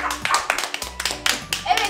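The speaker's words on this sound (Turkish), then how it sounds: "Alkış, alkış." Clapping at a family birthday party indoors: a few people's hands clap in quick, uneven bursts, close and fairly loud, with voices and someone talking over them.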